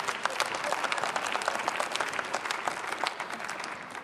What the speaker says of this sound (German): Dass auf Ihre Aufforderung jetzt scheinbar spontan dieser Beifall erfolgt